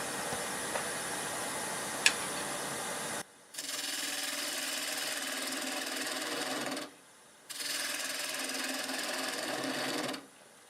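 A maple square bowl spinning on a wood lathe at about 1200 RPM while being cut, giving a steady loud whirring scrape in two long runs separated by brief pauses, with no speech.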